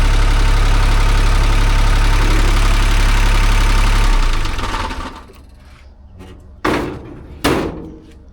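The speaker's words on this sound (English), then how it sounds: "So they've got the engine running," A small excavator engine of about 2.8 to 3 tons runs at a loud, steady idle close by, then drops away, leaving quieter surroundings broken by two sharp metallic knocks.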